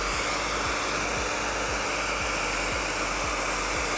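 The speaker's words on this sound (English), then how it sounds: "I put the blow dryer on max heat and max air." A blow dryer set to maximum heat and maximum air blows in a loud, steady, close-up rush that stays constant throughout.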